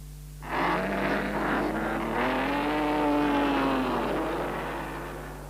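Two 1930s Auto Union racing cars set off at the start of a handicap Grand Prix race, their engines rising in a loud, sustained roar that climbs in pitch and then eases slightly as they pull away.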